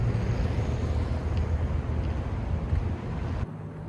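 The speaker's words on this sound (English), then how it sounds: "it's kind of windy" Wind roars and buffets across the microphone while riding a Circooter Landturbo Pro scooter outdoors, a steady loud rumble with no speech that drops off sharply near the end.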